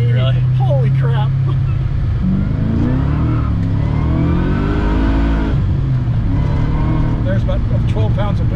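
Supercharged LS3 V8 swapped into a BMW E39, running about 12 pounds of boost, accelerating hard with a loud, rising engine roar and whine throughout, while people talk over it inside the car.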